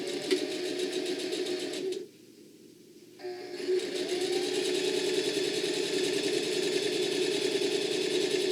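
A sewing machine stitches a quarter-inch seam on a bag with a steady, even hum. It stops briefly for about a second and then carries on at the same pace.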